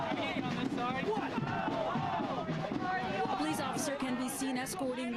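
A crowd of counter-protesters at a rally against a white supremacist event in Peterborough shouts and chants for a man to leave, a dense mass of overlapping voices at steady loudness throughout.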